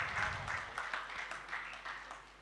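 Audience clapping at a Hindi-Urdu poetry reading, a steady patter of hand claps in a moderate room, fairly faint and continuous with slight swells, no voices over it.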